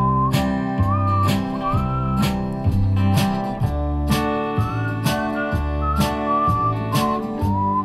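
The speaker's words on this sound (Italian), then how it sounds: "Vi faccio sentire, guarda, la musica di fine video, il fischiettio di fine video." A melodic whistled tune plays over a rhythmic backing beat, steady and fairly loud throughout, with repeating bars and no talk.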